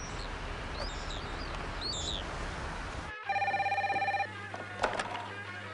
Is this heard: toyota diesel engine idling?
no